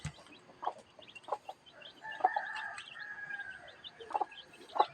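A mother hen clucks in short, repeated bursts among her brood of nine chicks, with higher peeping and a sustained call near the middle over a farmyard background.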